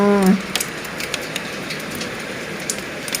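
Heavy storm rain mixed with falling hail in Savannakhet, Laos makes a steady, dense hiss with scattered sharp ticks of stones striking surfaces, loud and continuous after a brief opening tone.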